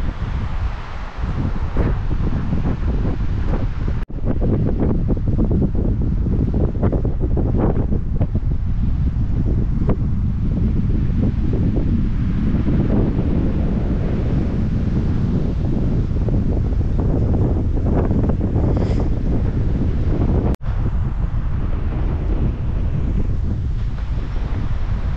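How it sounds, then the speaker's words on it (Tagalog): Strong wind buffeting the microphone on Mount Ugo, a loud continuous roaring rush with gusty surges and a few sharp thumps, no voices. "Ang sarap ng hangin. Makalamig."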